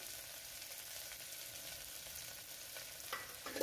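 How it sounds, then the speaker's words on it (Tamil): Sliced onions and green chillies fry over high flame in oil and ghee, giving a faint, even sizzle with a few soft stirring scrapes toward the end. "நம்ம நல்லா இதை ஆயில் அண்ட் கீயில் வதக்கி விட போகிறோம்"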